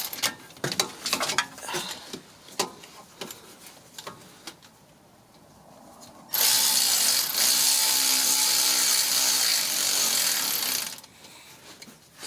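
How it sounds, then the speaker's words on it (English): Ratchet tightening a bolt on the rear brake caliper of a 2011 BMW 323i E90: a run of close, quick ratcheting clicks, then a steady loud mechanical whir for several seconds before it stops. "Then let's put on the bolt."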